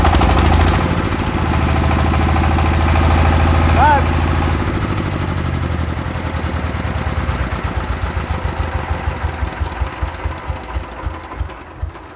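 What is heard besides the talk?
Saifeng 12 hp water-cooled diesel engine running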